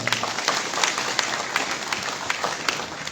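A crowd applauds at a pigeon-racing prize ceremony in Rawalpindi–Islamabad, giving a short burst of dense, steady clapping, close and lively.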